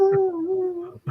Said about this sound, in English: The dog wants to say his piece on the dreadful performance, Gary.